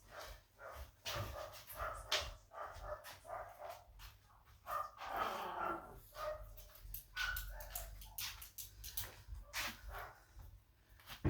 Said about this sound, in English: that's next door's dog barking, and Max has gone to investigate.